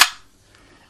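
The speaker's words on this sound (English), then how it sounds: "So let me go ahead and crack open a beer" A beer can cracks open with one short, sharp pop and hiss, loud and close, then near silence with a faint click at the end.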